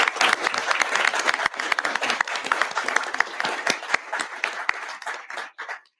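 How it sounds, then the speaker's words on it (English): An audience at the AUSA Hot Topic 2025 panel on holistic health gives a round of applause after the discussion, loud dense clapping that thins into scattered claps as it fades over several seconds. "Let's give them another round of applause"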